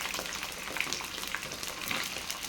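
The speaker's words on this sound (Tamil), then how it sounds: "இப்போது இதை நல்லா ஆயில்லையே மிக்ஸ் பண்ணி விட்டு நல்லா வதக்கி எடுக்கணும்" Cut eggplant pieces sauté in oil in a kadai for a spicy thokku, giving a soft, even sizzle with faint stirring sounds and no talking.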